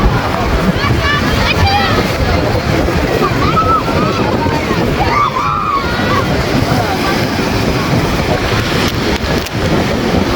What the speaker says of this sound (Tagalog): napakalakas po ng ano, alon.